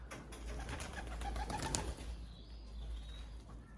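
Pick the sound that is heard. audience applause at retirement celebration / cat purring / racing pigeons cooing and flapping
racing pigeons cooing and flapping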